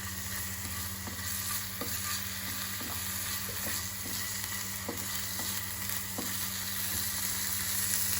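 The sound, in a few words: ginger sautéing in a pan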